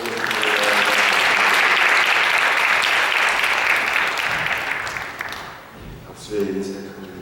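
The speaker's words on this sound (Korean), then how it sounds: "뜨거운 박수로 소개하겠습니다" Warm, loud applause from a church congregation swells and holds steady for several seconds, then fades out as a voice begins speaking near the end.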